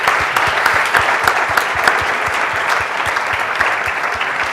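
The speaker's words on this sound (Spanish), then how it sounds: "Un fuerte aplauso para ellos, por favor." Loud, sustained audience applause at a medical talk on AI and diagnostic imaging, dense and even clapping filling the room throughout.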